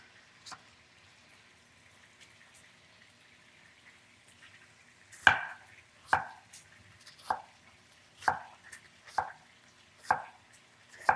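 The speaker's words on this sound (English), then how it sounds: "So you're going to chop an onion." Sharp knife chops an onion on a board, a single early one then a steady run of crisp, evenly spaced strikes, close and clear with no talking.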